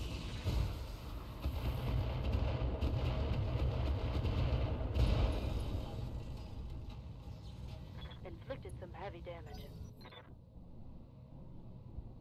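Heavy mech weapons fire in the video game Roguetech, heard as a loud, continuous broadband roar of blasts and rumbling impacts that eases off after several seconds, with scattered metallic clatter near the end.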